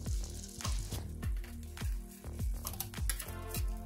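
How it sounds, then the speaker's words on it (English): Garlic hits melted butter in a pan for pancake-day crepes, giving a soft, crackling sizzle under a repeated low rhythmic thumping beat. "So garlic can go straight into the butter."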